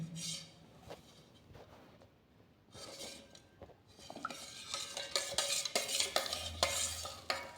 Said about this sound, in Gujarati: અંદર એડ કરીને આપણે હલાવતા જઈશું, જેથી કરીને લોટમાં કણિયો ના પડે